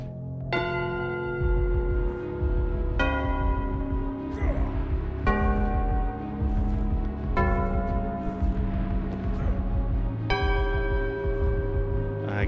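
A large fallen bell in the video game Book of Korvald is struck repeatedly, five resonant clangs at roughly two-second intervals, each ringing out with long metallic overtones over a low game background, no talk.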